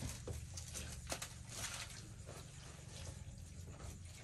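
Water splashes steadily and quietly into a cooking pot for a large batch of Maggi noodles, a continuous trickling pour with a few small splashes.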